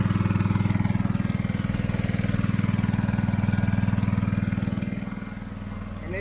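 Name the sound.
sprayer motor running, pump drawing fungicide chemical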